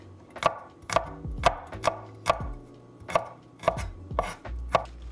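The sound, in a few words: knife chopping chives into one-inch pieces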